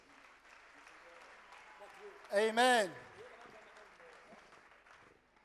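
A church congregation at a spiritual birthday celebration claps under a voice, which rises into a loud, ringing shout for a moment near the middle.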